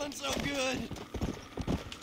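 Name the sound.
horse hooves clip-clopping in a video game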